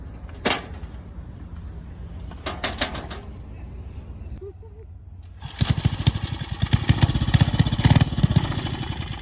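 A vintage motorcycle at a vintage motorbike club gathering, choked and being started: scattered knocks and clatter, then the engine catches and runs loud and close with a rapid, rough, pulsing beat through the second half.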